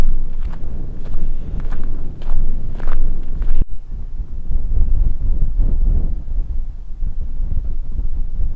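Strong wind buffets and rumbles across the microphone in steady gusts on a high plateau about 2200 metres up in Algeria's Ahaggar mountains, with faint rustling and a few scuffing steps beneath it.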